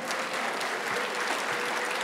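Audience applause fills the hall at a college graduation ceremony, a steady, dense patter of many hands clapping at even loudness throughout, with no voices over it.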